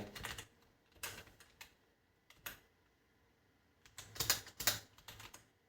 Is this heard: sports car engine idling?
no